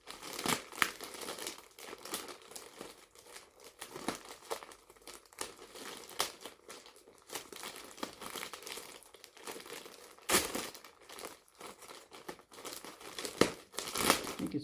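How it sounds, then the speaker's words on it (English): Someone opens a self-sealing plastic packet of happy mail with a miniature inside, producing continuous close crinkling and occasional sharper tearing rustles, with no talking. "I'll have to open the packet"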